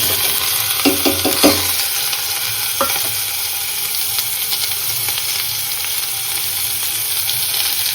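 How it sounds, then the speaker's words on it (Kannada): Onion, potato, tomato and curry leaves fry in hot oil with a steady, loud sizzle, broken by a few sharp clinks of a spoon stirring against the pan early on; no voices. "ಇದು ಸ್ವಲ್ಪ ಫ್ರೈ ಆಗಲಿ, ಎಣ್ಣೆನಲ್ಲೇ ಸ್ವಲ್ಪ ಫ್ರೈ ಆದರೆ ಚೆನ್ನಾಗಿರುತ್ತೆ"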